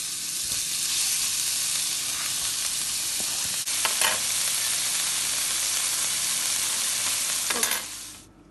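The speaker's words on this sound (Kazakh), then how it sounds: "Және фаршымызды салып қуыратын боламыз." Minced meat fries in a little oil in a hot skillet, giving a loud continuous sizzle with a couple of brief scraping stirs and no speech.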